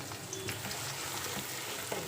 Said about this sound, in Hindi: अब प्याज को हमने तब तक पकाना है जब तक ये गोल्डन ब्राउन नहीं हो जाती।